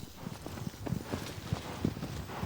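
Horse hooves clip-clopping in Shadow of the Colossus, a moderately loud, uneven rhythm of hoof strikes over a soft ambient bed.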